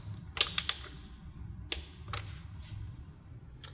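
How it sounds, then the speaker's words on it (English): Frame bracket bolts on a Kawasaki KX450 dirt bike being torqued: a few sharp metallic clicks, a quick cluster of three, then scattered single clicks, close and crisp over a quiet room. "next I'm going to torque the bolts to the frame"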